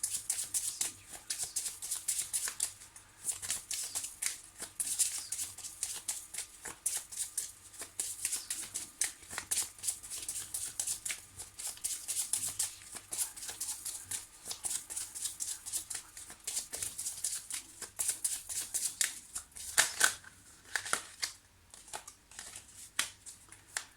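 Tarot cards are shuffled by hand in a long run of quick, papery riffles and soft slaps, close and crisp with brief pauses between bursts.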